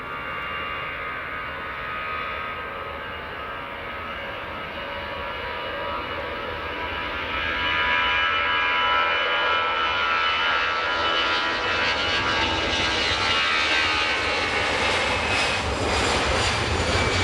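An EasyJet airliner takes off from runway 24 at Edinburgh Airport, a steady roaring engine drone that swells louder midway and holds at full power, heard alone without voices.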